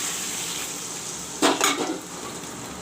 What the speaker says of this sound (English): The masala and the vegetables are fried up nicely.